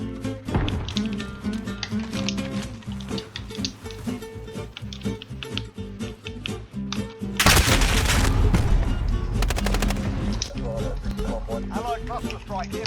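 Dense, loud automatic gunfire rattles almost continuously during a Modern Warfare battle, swelling into heavier bursts partway through, with game voices and effects mixed in.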